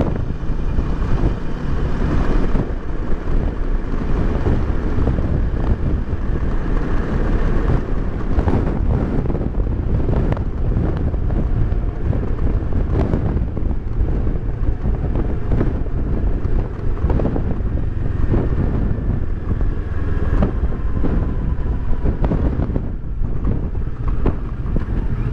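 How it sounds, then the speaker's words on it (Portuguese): Strong crosswind roars steadily across the microphone while riding a 2018 Kawasaki Versys 650 ABS Tourer motorcycle on a state highway, a dense unbroken rush of buffeting air with no speech. "Bastante vento lateral aqui"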